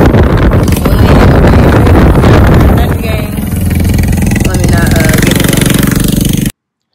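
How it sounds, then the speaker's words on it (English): A loud motorcycle runs close by, its engine roaring strongly at first, then settling into a steadier lower rumble with wind buffeting the microphone, before the sound cuts off abruptly. "that guy's bike was loud as can be"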